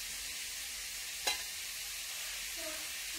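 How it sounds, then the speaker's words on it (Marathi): A dry cauliflower stir-fry is stirred in a pan, with a low, steady background hiss and one brief scrape of the spatula near the middle. "आपण आता हलवून घेऊ याला."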